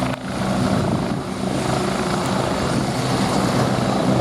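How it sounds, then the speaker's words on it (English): A Royal Navy anti-submarine helicopter flies at an airshow, its rotor and engine giving a loud, steady, broadband roar throughout with no talk. "a helicopter capable of operating from Royal Navy small ships, frigates in particular, to carry out principally anti-submarine warfare roles"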